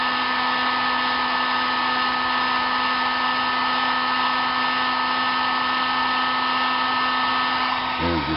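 Steady, loud heater blowing with a constant fan whine and hum, warming a lead zinc alum battery solution indoors; the blowing runs unbroken throughout with a brief shift near the very end and no talk.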